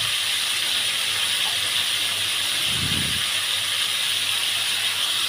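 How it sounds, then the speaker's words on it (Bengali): Pieces of farm chicken fry in oil in a frying pan, producing a loud, steady, unbroken hiss with a brief low rumble partway through and no speech. "মাংসগুলো ভাজা হয়ে গেলে সবগুলোকে আমি এইভাবে ভেজে নেব।"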